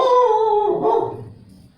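Pet dogs indoors let out one loud, close, drawn-out bark that slides into a howl and fades within about two seconds.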